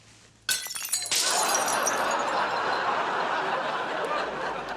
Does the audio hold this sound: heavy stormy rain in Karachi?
no